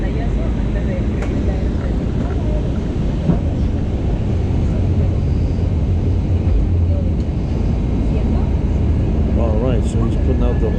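A small airplane in flight puts out its landing gear over jungle near Iquitos, giving a steady loud engine drone throughout with faint voices under it.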